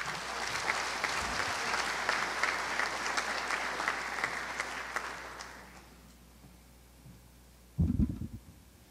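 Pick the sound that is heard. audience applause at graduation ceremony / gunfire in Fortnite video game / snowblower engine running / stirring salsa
audience applause at graduation ceremony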